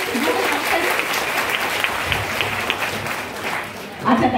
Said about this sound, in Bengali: আবারও দাও ম্যাডামের জন্য একটা জোরে হাততালি।